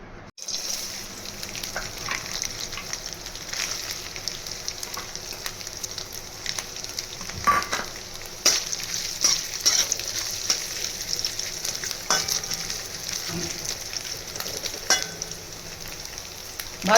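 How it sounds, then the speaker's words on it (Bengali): Coconut pieces fry in refined oil in a kadai over a gas flame, giving a steady, close crackling sizzle with occasional sharper pops and stirring clicks throughout. "নারকেলগুলো প্রথমে ভেজে নেব।"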